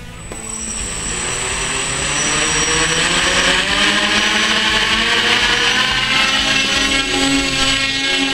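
A cheap quadcopter strains to lift a six-pack of Miller Lite beer. Its rotors give a loud, steady buzzing whine that builds over the first couple of seconds and then holds, with no voices.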